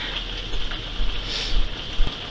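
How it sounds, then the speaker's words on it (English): Heavy rain pouring outside, a steady close hiss of falling water with a few louder gusts or splashes, no talking over it. "it's really pouring outside if you can't hear that"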